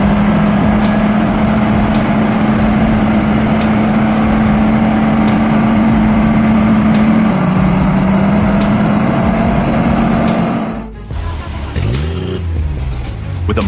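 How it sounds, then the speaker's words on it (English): A heavy off-road truck's engine drones loudly and steadily in mud for about ten seconds, then the sound shifts abruptly into a rougher, lower, churning rumble. "With a mighty roar, the heavy truck plunged into the muddy puddle."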